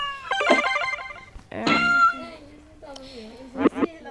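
Cartoon cat meows from the Teeny Titans video game, several short voiced mews in bursts across a few seconds, fairly loud and close, with no talk over them.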